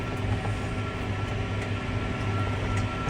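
A John Deere 6215 tractor spreading muck with the spreader running, giving a steady, loud, close mechanical rumble and drone throughout, with no talk.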